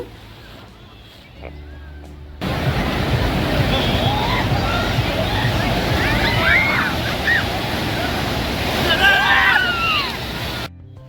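Ocean surf rolls continuously on a crowded Goa beach, a loud steady wash of waves with a busy babble of beachgoers and occasional shouts mixed in, starting abruptly and running nearly unbroken.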